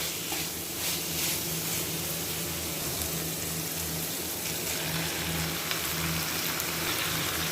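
Malabar spinach dropped into spiced masala frying in a pan for a village-style dish with pumpkin and prawns, giving a dense, continuous hiss and crackle that stays close and even throughout, with no talking.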